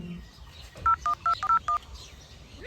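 A mobile phone plays a quick run of six short dialing tones, evenly spaced beeps close by, over a quiet indoor background with no talk.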